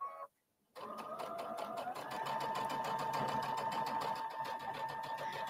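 A sewing machine stitches fabric with a steady, fast mechanical whir and rapid needle clatter. It starts after a brief pause and keeps a constant, close-up rhythm.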